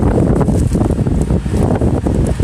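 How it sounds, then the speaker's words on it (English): Strong wind gusts and roars outdoors in a snowstorm, blowing snow around, buffeting the microphone in a loud, continuous rush. "the snow's really blowing around out here"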